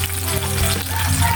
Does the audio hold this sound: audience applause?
no